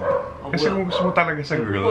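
A family dog barks in a quick series of sharp yips under a person talking steadily over it.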